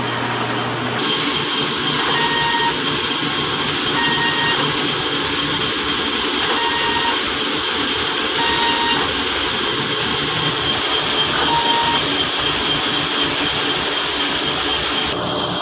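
A DTF printer's head cleaning cycle: a steady mechanical whir and hum, with faint periodic beeps and small shifts in pitch as it cycles.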